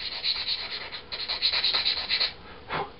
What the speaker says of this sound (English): I'll take a sanding stick of some description